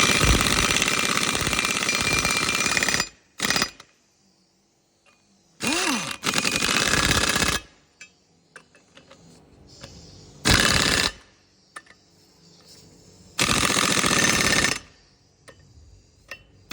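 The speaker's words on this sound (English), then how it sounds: "I'll go ahead and tighten them all up." A power tool tightens the wheel bolts on a Ford Transit front brake assembly, giving several loud, close bursts of whirring and rattling, each lasting about one to two seconds, separated by quiet gaps.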